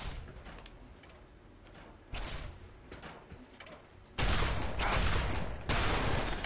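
Enemy gunfire in the video game Fallout 3 arrives as bursts of sharp shots and crashes, growing louder and denser toward the end, with no talking over it.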